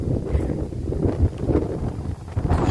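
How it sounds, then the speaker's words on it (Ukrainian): Strong wind on a cold day outdoors buffets the microphone as a steady, loud low roar with gusty surges throughout, and no one speaks. "дуже похолодало. Вітрисько страшний сьогодні. Дує по-страшному."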